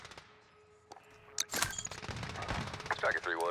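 Gunfire in a first-person multiplayer shooter match, bursts of shots starting partway in and continuing densely to the end, mixed with other game effects and a voice.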